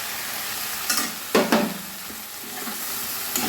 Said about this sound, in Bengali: ছোলার ডালটা দিয়ে আমি খানিক্ষণ মশলার সঙ্গে কষে নেব